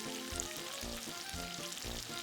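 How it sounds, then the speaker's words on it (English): Steak sizzles in a hot frying pan, a steady crackling hiss with a faint rhythmic low thumping beneath, close and fairly quiet. "Let's listen to that sizzle."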